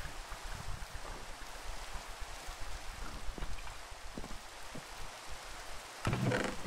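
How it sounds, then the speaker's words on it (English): Rain pouring in modded Minecraft with weather shaders, a continuous hiss of drops with a few soft thuds and a brief louder splash near the end. "I love this rain, by the way"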